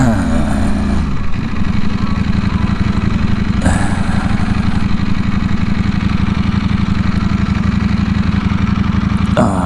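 Ducati V4S motorcycle engine droning steadily and loudly while riding, with a constant rhythmic pulse and a couple of brief shifts in pitch, no voices.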